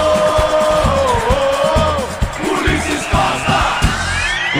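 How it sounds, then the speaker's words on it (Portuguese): Football crowd at Casablanca stadium in Quito for an LDU versus Palmeiras Libertadores match, a steady roar of fans with yells and whoops, loud and continuous, with distant voices and some shouting mixed in. "já tô ouvindo mais torcida aí, hein?"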